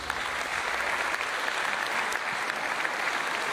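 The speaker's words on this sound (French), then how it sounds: "Je vous demande d'applaudir Hiro Chang." An audience at an awards gala in Tahiti breaks into dense, sustained applause, a steady wash of many hands clapping at once throughout with no speech over it.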